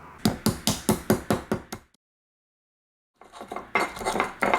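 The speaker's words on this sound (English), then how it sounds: "now I'm just going to mash up our paste. Here we have shallot, garlic, candle nuts," Mortar and pestle pounding a paste of shallot, garlic, candlenuts and ginger, a steady run of about eight sharp, hard thuds, then a pause of silence before quicker, busier pounding resumes, near and clear with no talk.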